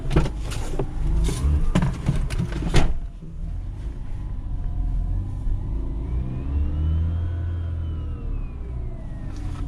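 A 2004 Mazda RX8 with a B13 rotary engine drives along, its engine revving and rising in pitch in a steady nearby drone after a few thumps and knocks at the start.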